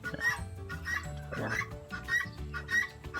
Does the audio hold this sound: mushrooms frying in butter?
no